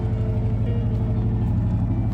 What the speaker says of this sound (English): we got the car running finally